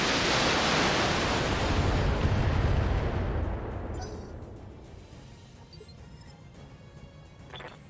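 Indirect artillery fire in the mech game BattleTech: a loud, broad roaring rush of explosive noise that sustains for several seconds before gradually thinning and fading into a quieter rumbling tail.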